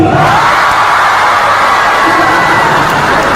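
A large crowd at a political rally in the Philippines shouts and cheers continuously, loud and close, forming a dense roar of many voices with whoops and yells rising above it.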